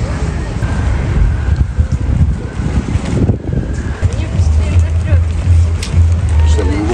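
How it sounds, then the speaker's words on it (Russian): Hot gusting wind on the Crimean coast whistling through sailboat masts, a thin high tone riding over a heavy rush of wind and surf, with microphone buffeting and a low engine-like hum underneath. "Это вот из-за порыва ветра такие звуки издают парусники. Свистят мачты."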